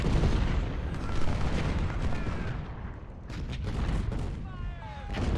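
Howitzer artillery and massed gunfire from a Civil War battle in Ultimate General: Civil War, a dense, continuous rumble of booms and crackling volleys with faint voices and cries mixed in.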